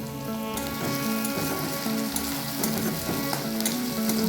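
Chopped tomato and onion fry together in a pan with a loud, steady sizzle and crackle that runs throughout, with no voices.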